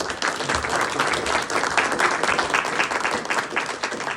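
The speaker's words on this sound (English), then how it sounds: "I think we owe a round of applause to all of those" A room full of people applauding at an annual parish meeting of a church in Ossining, dense sustained clapping that stays loud and even for about four seconds.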